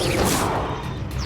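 A fire-type Confringo spell is cast in Hogwarts Legacy, giving a short, loud whooshing burst with crackling crash-like energy that fills just over a second.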